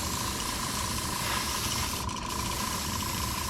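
An airbrush sprays paint on a 1972 Dodge Challenger with a steady, continuous hiss that fills the whole moment. It sounds close, with no talk.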